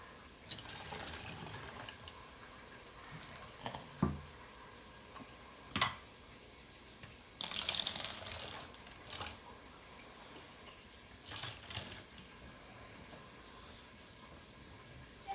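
Vinegar is poured into a bowl in uneven splashes and trickles, with liquid sloshing, a few sharper clinks and drips, and quiet pauses between pours.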